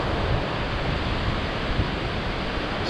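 Ocean waves rolling up a beach as the tide comes in, a continuous rushing wash of surf close by, steady and fairly loud, with no talking.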